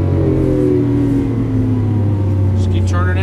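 A 2012 Lamborghini Aventador on a Las Vegas track drives out of a corner. Its engine drones loud and steady, rising slightly near the end, while someone talks over it.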